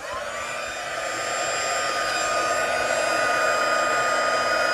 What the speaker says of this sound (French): on va venir chauffer notre texte et notre poudre va fondre